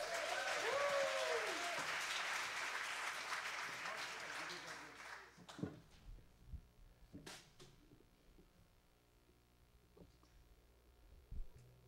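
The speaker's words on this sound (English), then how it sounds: "Let's please keep the applause going for Mr." Church audience applause for Andrew Pettit, clapping that thins and fades within the first few seconds, followed by a few scattered thumps and low rumbles in a quiet room.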